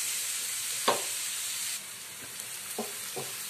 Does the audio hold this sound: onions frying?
yes